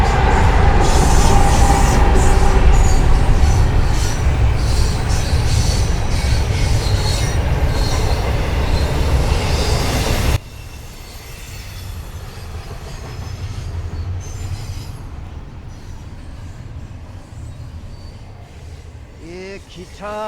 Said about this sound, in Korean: 지금도 다니는 기차가 지나가고 있습니다